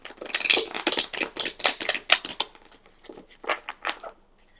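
Rapid papery flicks and riffles of tarot cards being shuffled up close, a quick burst followed by a few slower slaps.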